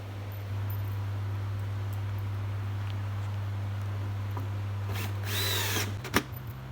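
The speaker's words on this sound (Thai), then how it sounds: "ต่อไปจะยิงน็อตยาว ส่วนเข้าที่ด้านหลังค่ะ" A power drill whirs steadily for several seconds, driving long screws into a wooden room partition, then winds down with a short burst of higher-pitched grinding and a click near the end.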